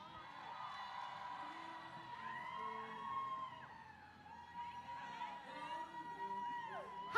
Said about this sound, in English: Please give a warm round of applause to Sophia of the Women's March.